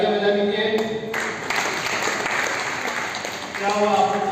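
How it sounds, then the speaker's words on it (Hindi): Applause for a student named Ritika at a school National Science Day 2025 event, a dense patter of clapping from a group under and between nearby speech. "रितिका के लिए तालियां बजा दीजिए।"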